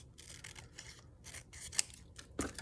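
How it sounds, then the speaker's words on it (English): Scissors snip through paper while a small junk journal notebook is trimmed, giving a few close, crisp cuts spaced unevenly, with a sharper snip near the end and no talking. "let's trim this down a little bit"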